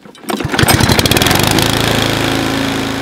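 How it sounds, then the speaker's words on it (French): Petrol lawn mower engine starting and then running steadily with its spark plug cap removed and not connected, a loud close rising roar that settles into a continuous rattling drone. "J'ai essayé de démarrer la tondeuse et elle a démarré."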